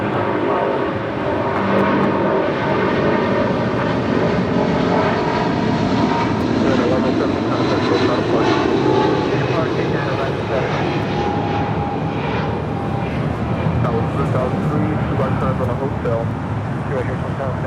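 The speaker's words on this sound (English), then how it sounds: "This is United Airlines 1170 taking off to Honolulu on a 777-200." A United Airlines Boeing 777-200 jet takes off at LAX with a loud, continuous engine roar that holds steady throughout, while a voice talks over it.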